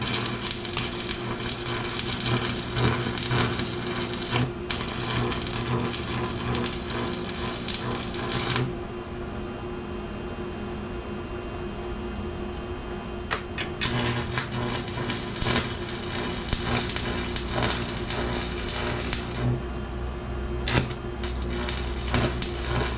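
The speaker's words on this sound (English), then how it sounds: "I'm just going to tack weld that on the sides." Angle iron is tack welded onto the sides of a golf cart seat frame, producing dense, continuous crackling buzz in a workshop, broken by a few brief gaps between tacks.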